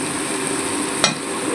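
Fish frying in oil in a pan, a soft steady sizzle heard close, with one brief sharp clink partway through and no talking.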